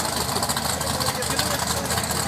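A Merlin V8 engine of a two-seat dragster at a 402-meter drag racing event runs with a dense, harsh, broadband roar, steady and loud throughout, with voices talking over it.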